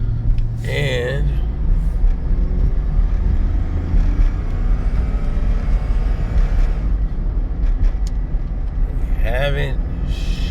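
A 2003 Chevrolet Tahoe with a 4L60E transmission that is not shifting is being driven: a constant low engine drone and road rumble, heard from inside the cabin, with brief voices breaking in at the start and near the end.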